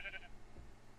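A Minecraft sheep gives a single short bleat near the start, a bright wavering cry that fades quickly, with low game background noise continuing after it.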